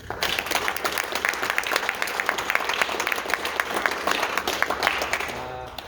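A round of applause during a virtual event, a fairly loud burst of many hands clapping in quick overlapping rhythm that tapers off at the end.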